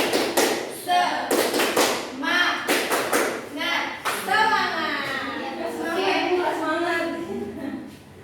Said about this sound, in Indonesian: Berdiri semua. Iya, tepuk semangat.